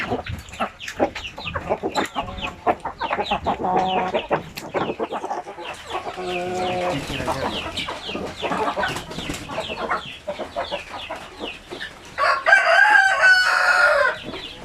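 Brooding RTL Basilan hens cluck and chatter continuously at close range, with a rooster crowing loudly near the end.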